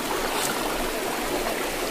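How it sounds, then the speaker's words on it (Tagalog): Strong, steady rush of flowing water at Kawasan Falls, a dense continuous current roaring close by with no pauses. "Lakas ng tubig, no?"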